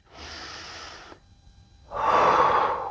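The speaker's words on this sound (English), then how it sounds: "We're taking a few rounds of breath" Deep breathing held in a yoga warrior pose: a long, soft airy exhale, a brief pause, then a stronger, louder breath, close and with no speech.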